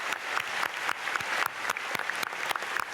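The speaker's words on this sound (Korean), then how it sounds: "박수하겠습니다" A church congregation claps together in a brisk round, many hands striking sharply and close, with the beat partly falling into a shared rhythm throughout.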